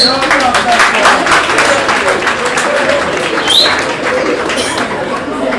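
A wedding audience applauds steadily, with clapping spread through the crowd and people talking over it.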